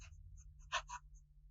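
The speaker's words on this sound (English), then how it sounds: "The next writing sample is done in a composition notebook." A fountain pen with a fine nib scratches softly across composition notebook paper in short, faint strokes, with a brief louder stroke in the middle, over a quiet low hum.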